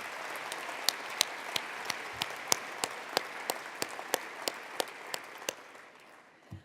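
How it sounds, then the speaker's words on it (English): Audience applause at a community college State of the College address, a steady wash of clapping with distinct sharp claps standing out, fading toward the end. "Let's give them a round of applause."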